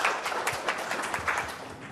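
An audience of university students claps for a teacher at a soft-skills event in Vietnam, steady dense applause heard from a distance at fairly low level with no talk.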